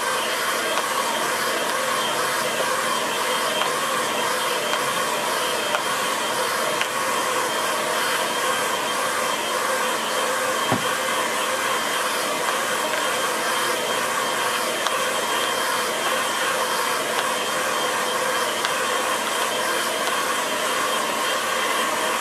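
A hair dryer blows steadily and close by for the whole stretch, drying a watercolour painting of a grass scene, with a continuous even whoosh and no talking.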